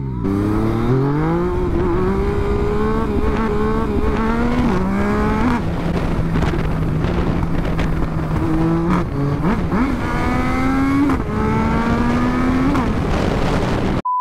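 A loud Yamaha MT-09 motorcycle engine revs up repeatedly, the pitch climbing and dropping through several sharp bursts, close by and continuous.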